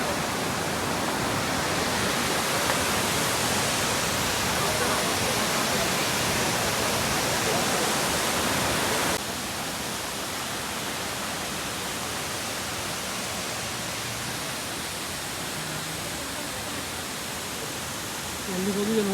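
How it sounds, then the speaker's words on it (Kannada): Broad, steady roar of Shivanasamudra's Gaganachukki waterfall on the Kaveri river, loud and continuous and dropping slightly in level midway, with faint voices barely audible beneath it. "ಮೇಲ್ಗಡೆಯಿಂದ ನೀರು ಫ್ಲೋ ಆಗೋದು ನೋಡಿದ್ದೀರ"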